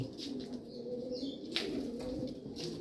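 Jacobin pigeons in a cage give soft low coos with light rustling and occasional wing flaps, faint and close with no speech.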